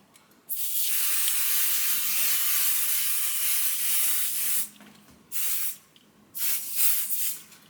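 A long, loud continuous hiss from a can of spray adhesive used on quilted tote fabric, then two shorter bursts with pauses between them.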